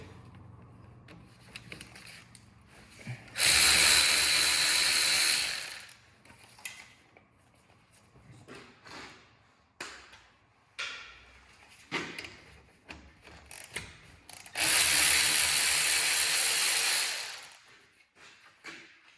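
A ratchet wrench loosens the two 13mm brake caliper bolts on a 2010 Dodge Grand Caravan, two loud sustained bursts of ratcheting close by, separated by quieter clicks and handling noises.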